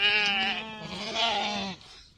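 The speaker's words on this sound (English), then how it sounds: "I will put the video of the sheep here" A single sheep bleats loudly and close by, one long wavering call that trails off abruptly, with no talk around it.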